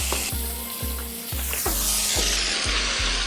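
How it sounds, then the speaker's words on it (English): Onions for bottle gourd curry sizzle steadily in a hot pan, with a regular scraping stir every half second or so, loud and close. "We have been stir frying our onions."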